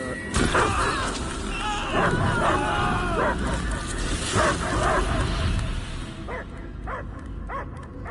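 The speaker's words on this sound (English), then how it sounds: "I hear only barking." A dog barks and whimpers in the video game Marvel's Guardians of the Galaxy, amid a busy mix of crashes, music and effects, with voices speaking throughout.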